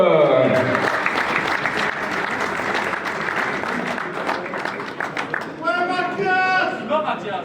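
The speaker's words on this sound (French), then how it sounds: "je vous demanderai d'applaudir bien fort pour cette première saison complète et surtout un championnat réussi pour Mathias Lenoir" A crowd at a motorsport club awards ceremony applauds a championship winner from the Marchand Auto Club with steady, loud clapping that carries throughout, while voices and a shout rise over it near the end.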